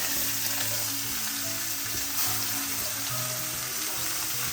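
Three sliced onions and two tomatoes sautéing in coconut oil, a loud, close, continuous sizzle with stirring scrapes over a hissing background.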